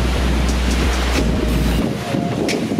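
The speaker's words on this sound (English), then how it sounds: "So this is the beach." Ocean waves at a Miami beach wash in a loud, continuous roar, heavily buffeted by low wind rumble on the microphone.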